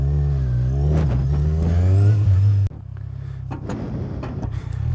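A Kawasaki Z1000 motorcycle pulls away loudly, its engine note climbing steadily through the revs before a sharp gear change drops the pitch and it keeps accelerating, heard close up.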